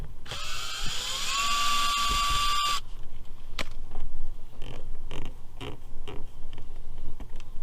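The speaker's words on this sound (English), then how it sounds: "That's held in by just this one Phillips head screw." A power driver whines high for a few seconds backing out a single Phillips head screw from a Buick Regal door trim piece, followed by faint clicks and handling knocks, close and with no speech.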